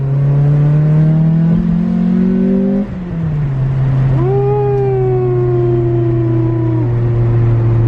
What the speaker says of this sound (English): should I try to hit VTEC real quick?